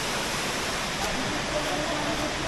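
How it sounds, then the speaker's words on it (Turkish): Steady, broadband rushing of a waterfall fills the scene at constant loudness, with no breaks. "Şöyle gördüğünüz gibi şelale de burada."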